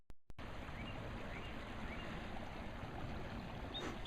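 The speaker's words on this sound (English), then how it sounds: "There's a lot of water coming here." Water flowing down a mill head race, a steady broadband rushing and burbling stream that is close and constant after a brief start, with no voices.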